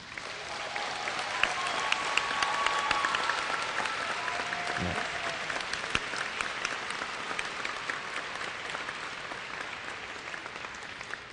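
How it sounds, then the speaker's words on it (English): A convocation crowd at a university graduation ceremony in Orillia applauds in sustained, even clapping that swells slightly early on and then holds steady, filling a large hall for over ten seconds. "give me a big round of applause if you didn't think that was the greatest fun"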